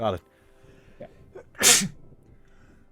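A single sharp sneeze bursts out close to the microphone during a tabletop role-playing game session, with people talking briefly before it.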